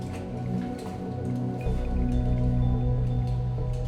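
Water drips and splashes steadily from a waterfall inside a deep cave, a dense, continuous wet patter under a low rumble with no voices.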